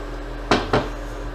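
An egg dropping into a pan of water for poaching, two quick knocks about a quarter second apart, close and alone.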